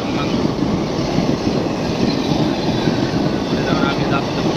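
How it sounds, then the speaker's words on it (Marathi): A train passes at Badlapur railway station, a loud steady rumble and roar that fills the whole stretch without letting up. "इकडून ट्रेन चालली आहे"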